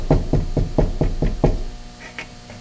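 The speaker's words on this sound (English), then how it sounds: "A knock." Six evenly spaced knocks on a door sound close and firm over about a second and a half, then stop, leaving faint room tone with a couple of light soft sounds after.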